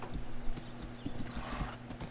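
Horses walking over rough terrain, hooves clip-clopping in a steady, faint rhythm with no voices.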